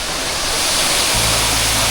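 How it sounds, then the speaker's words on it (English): Loud, close waterfall in Kenya, a continuous broadband rush of falling water that deepens partway through, with no voices. "We have seen these waterfalls."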